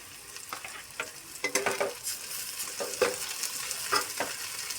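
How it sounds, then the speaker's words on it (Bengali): Onion and garlic frying in a pan as ginger paste and chopped green chili are added, with stirring scrapes and a steady sizzle, a few louder clatters of the spatula, no talking. "পেঁয়াজ রসুন ভালো করে ভাজা হয়ে গেছে দিয়ে দিচ্ছি আদা বাটা কাঁচা লঙ্কা কুচি"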